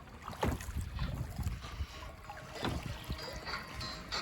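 Rowboat oars pulling through water on Rollesby & Ormesby broad on a sunny day, soft splashes and dips at an irregular rhythm, close and fairly quiet over faint wind.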